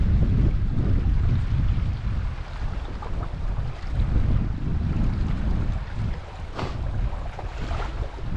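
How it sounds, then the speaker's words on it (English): Gusty breeze buffets a boat on open water, a continuous loud rush of wind noise that swells and eases over several seconds, with faint water sounds beneath and no talking. "Nice breeze,"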